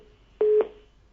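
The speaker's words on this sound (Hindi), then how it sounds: "फोन लाइन डिस्कनेक्ट हो गई आपकी" A telephone line disconnecting during a Hindi radio call-in show, heard as a single clear electronic tone lasting about a fifth of a second, loud and close over a faint steady background hum.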